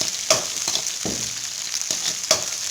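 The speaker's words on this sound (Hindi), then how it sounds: "उसके बाद हमने डाल दिया ये प्याज डालने के बाद थोड़ा सा चला लेंगे, हल्का सा ब्राउन होने के बाद" Chopped onions frying in oil in a pan for a samosa filling, giving a steady sizzle broken by several scraping stirs of a spoon at irregular intervals, close and clear, with no talking.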